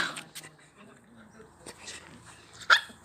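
Two dogs yapping and barking in a home, a few short sharp barks spaced over a few seconds with one louder bark near the end, people talking softly in the background.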